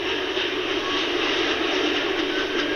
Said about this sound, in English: Is that the chopper? Hear that?